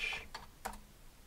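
Terminal command typed on a computer keyboard for a Raspberry Pi 4 running MX Linux: a few quick, close keystrokes in short bursts, with no talking.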